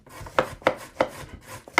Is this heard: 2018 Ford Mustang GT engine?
no